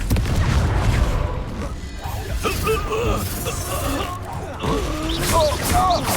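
Fiery Confringo spell explosion in Hogwarts Legacy, with booming blasts and crashing impacts layered over game combat noise and a spoken voice.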